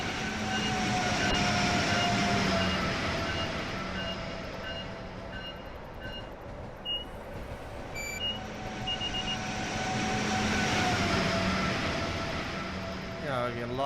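A train in Train Sim World 3 hums and rumbles steadily for several seconds, swelling and easing, with faint beeps and tonal whines over the engine drone.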